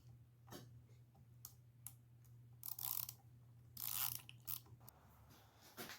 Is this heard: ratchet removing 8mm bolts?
yes